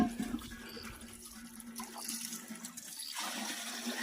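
Spring water trickles and flows steadily in a forest tribal village, a continuous close watery rush with a faint steady hum beneath and no voices.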